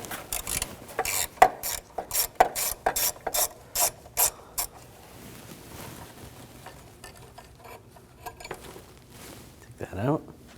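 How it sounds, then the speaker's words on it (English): A hex socket ratchet backs out a bolt on the auxiliary water pump of a 2006-2009 Audi S4, giving a close, loud burst of rapid clicking strokes that stops abruptly, followed by quieter handling noises and a short squeak. "Take this bolt out."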